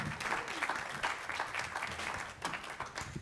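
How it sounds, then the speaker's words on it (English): A gathered congregation at a church event gives sustained applause, with many hands clapping in a dense, continuous wash that holds at an even level from start to finish. "Let's give them a big round of applause"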